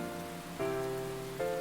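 Steady rain falling in the visual novel game Aokana, a continuous even patter with soft tonal chimes entering twice over the background.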